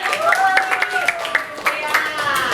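A primary school class claps in a short burst of uneven hand claps after a correct answer. Voices talk and call out over the clapping.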